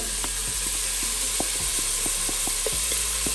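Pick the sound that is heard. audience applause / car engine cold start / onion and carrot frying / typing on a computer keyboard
onion and carrot frying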